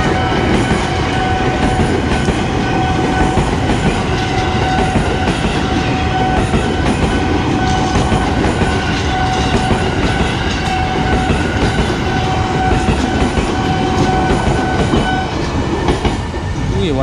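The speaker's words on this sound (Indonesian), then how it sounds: "Keretanya baru memasuki stasiun yang nggak berpenghuni, stasiun Mampang" A commuter train bound for Bekasi rumbles past close by at a level crossing near Mampang station, with loud continuous roaring and rattling wheels on the rails, steady throughout.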